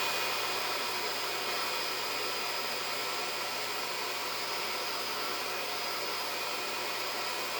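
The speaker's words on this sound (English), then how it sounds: "I'm going to hit it with my blow dryer to dry it" A blow dryer runs steadily throughout to dry wet mud, giving a constant loud broadband whoosh with no change in pitch and no speech.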